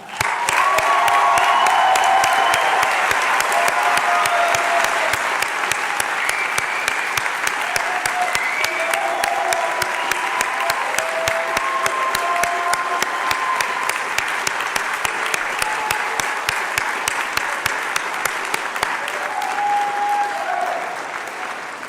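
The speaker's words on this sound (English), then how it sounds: "Let's give one last round of applause for the class of 2024." Graduates of the University of Illinois College of Medicine Peoria class of 2024 receive a long, even round of applause from a convocation audience, dense clapping holding steady at moderate loudness before tapering slightly at the end.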